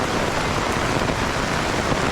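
Heavy monsoon rain pours down in a steady, dense hiss, loud and close, with no pauses and no voices over it.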